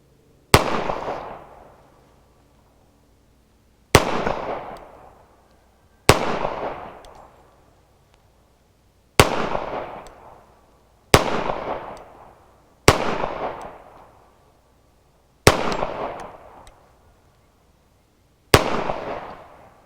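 Eight slow, deliberate gunshots from a Llama FireStorm 1911 pistol fired for a target group, each a sharp loud crack with a decaying echo, spaced about two to three seconds apart.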